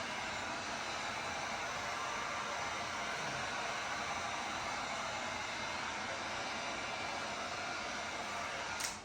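A heat gun blows steadily while warming a vinyl plank floor transition, a continuous loud broadband whoosh that holds unchanged for about nine seconds and cuts off at the end, with no talking.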